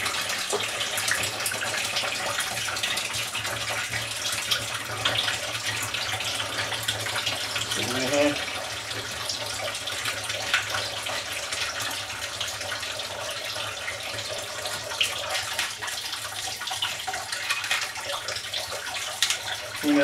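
Water draining through a clogged kitchen sink, a continuous rushing, gurgling flow that holds steady and fairly loud throughout, with a brief clunk partway and no talk.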